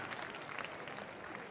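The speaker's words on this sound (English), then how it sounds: "Give a round of applause there." Audience applause at a campdraft championship round, a dense, steady patter of clapping from a crowd at a distance, faint and continuous.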